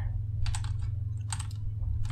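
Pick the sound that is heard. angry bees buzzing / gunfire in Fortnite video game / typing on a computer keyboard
typing on a computer keyboard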